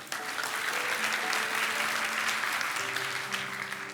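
Church congregation applauding in praise to God, a full, steady round of clapping from many hands with cheering and voices mixed under it, sustained at an even loudness.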